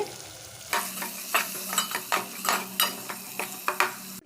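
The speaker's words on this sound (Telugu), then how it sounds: "అల్లం వెల్లుల్లి పేస్ట్ అయితే ఫ్రై అయిపోయిందండి" Ginger garlic paste frying in a pan, stirred with a utensil in a steady rhythm of scraping strokes over a constant close sizzle.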